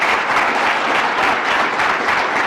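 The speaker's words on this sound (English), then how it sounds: "So let's give our president another round of applause." An indoor audience gives a sustained, dense round of applause for a college president, steady loud clapping throughout with no break.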